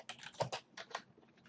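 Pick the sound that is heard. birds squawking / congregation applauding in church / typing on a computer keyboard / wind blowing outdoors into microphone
typing on a computer keyboard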